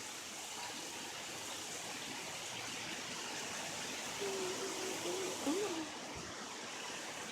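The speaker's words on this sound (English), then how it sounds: "Right now, it's just raining really hard." Heavy rain pours down in a thunderstorm as the wind picks up, a dense, steady roar of water close by that fills the whole stretch, with a brief voice cutting in near the end.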